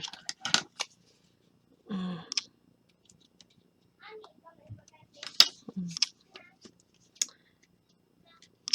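Short, sharp snips of scissors cutting a strip of paper craft material, a few isolated clicks and metallic ticks spaced apart, close and fairly quiet, with brief handling noises between.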